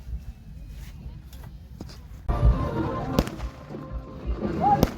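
Firecrackers burst at a falcon festival crowd event in Umrangso, a few loud cracks and booms over a busy outdoor crowd rumble, with voices nearby.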